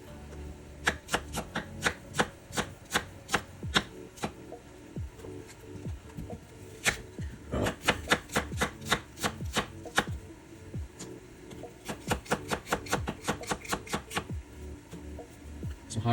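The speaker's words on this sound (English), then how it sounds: "I'm gonna keep on cutting the veggies over here. Onions, we'll cut pretty big" A knife chops onions and vegetables on a cutting board in a home kitchen, sharp rhythmic taps in quick runs with short pauses, close and crisp against a quiet room.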